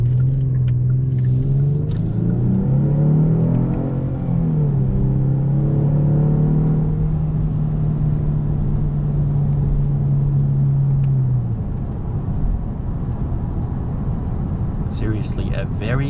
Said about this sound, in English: It's very nice and quiet in here, and it's just very isolated inside of this G70.